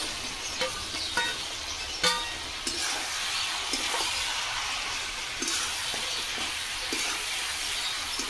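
Already-fried potatoes go into a pan of frying masala for a Bengali chicken bhapa, giving a steady close sizzle broken by a few sharp clinks and scrapes of stirring, with no talking.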